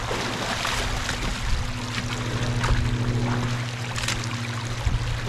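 Water rushes steadily through a breach in a beaver dam, a continuous broadband pouring and trickling with a low steady hum beneath, holding at an even level throughout with no voices.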